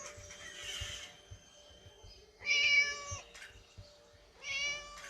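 A cat meowing indoors, with three drawn-out, tonal meows spaced a second or two apart against a quiet background with faint low rumbling.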